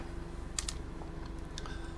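A few sharp computer keyboard keystrokes, backspace presses on a Windows 11 PC, two quick taps followed by a couple more after a pause, close over a low steady hum.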